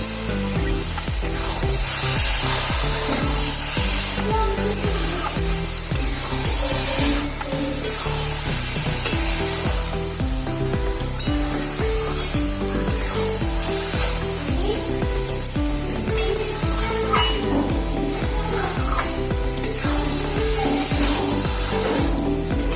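Gajar ka halwa, carrot halwa, fries in ghee and gets stirred, giving a steady close sizzle with scraping and rubbing sounds. It runs continuously and loud under a constant background hum, with no talking.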